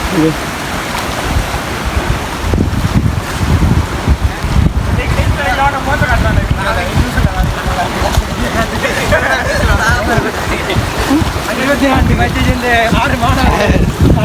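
Strong wind buffets the microphone with a steady roar of rushing floodwater over a coastal road in Batticaloa, Sri Lanka, and a voice talks underneath throughout.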